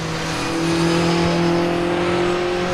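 Race cars, including a Ferrari Challenge, drone steadily past through the Craner Curves at Donington Park in wet conditions, with a constant engine roar over hiss from spray and wind.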